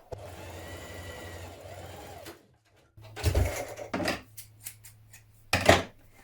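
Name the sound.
sewing machine stitching a fabric seam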